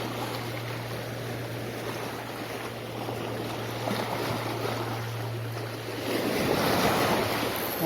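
Waves surge at sea during a high tide with a strong current, a steady broadband wash with wind rumbling on the microphone, swelling louder near the end.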